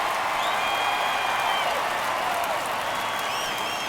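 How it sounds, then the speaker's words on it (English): A packed baseball stadium crowd at a Royals versus Red Sox wild card playoff game roars continuously in the ninth inning of a one-run game, loud sustained cheering and applause with occasional whistles. "Crowd locked in right now."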